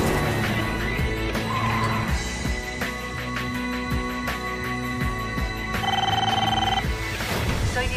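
Telephone ringing with repeated electronic trill bursts, loud and close, layered over a dense background of music and other sounds, with no speech.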